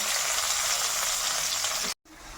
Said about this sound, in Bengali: এবার আমি এই পেঁয়াজগুলো সুন্দর করে ভেজে নেব